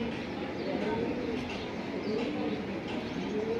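Soft pigeon coos murmur amid a busy background of voices and general bustle at a pigeon sale, the calls faint and intermittent under the people talking.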